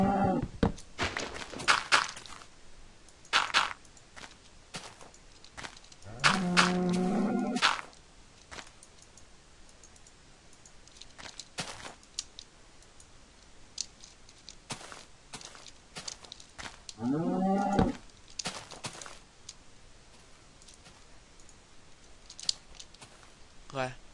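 A cow in a video game gives two drawn-out, wavering moos spaced well apart, loud against a background of quiet footsteps and clicks, with no talking over the calls.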